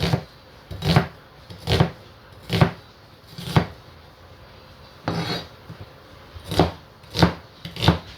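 A knife chops through an onion on a cutting board while preparing a Jamaican dish, producing about ten distinct, evenly spaced thuds with a short pause midway, close and clear with no talking.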